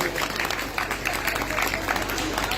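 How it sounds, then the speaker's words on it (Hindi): A crowd at a Shrimad Bhagavat Katha gathering claps steadily in a continuous wash of applause, with voices mixed in. "तो एक बार तालियां मेरे कहने के बिना ही जोरदार हो गई।"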